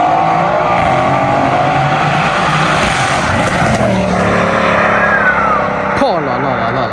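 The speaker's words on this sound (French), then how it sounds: "En plus le full tube là, ça lui libère vraiment tout, le bruit, etc." Mercedes C63s AMG with a full exhaust system, its engine note running loud and close throughout as a steady rumbling drone, with a sharper shift partway through and people talking over it.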